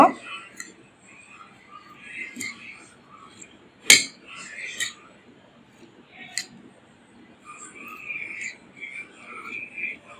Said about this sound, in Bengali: এবার এগুলো মিক্স করে নেব।